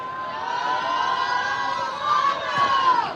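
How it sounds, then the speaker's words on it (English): A crowd at a live competition event cheers and shouts continuously, with sustained whoops and raised voices layered over one another and rising slightly in intensity toward the end. "Lamo is just totally cheering"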